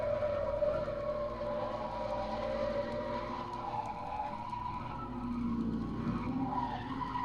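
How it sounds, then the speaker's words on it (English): A 1971 Holden Kingswood's engine drones steadily at speed, then its tone drops and the tyres scrub and squeal as it brakes hard into a hairpin corner at about 50 mph. "Listen to the Kingswood brake to take it at an incredible 50 miles an hour."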